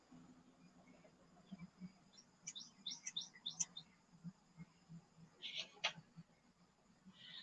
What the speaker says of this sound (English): y'all know sometimes y'all hear the birds chirping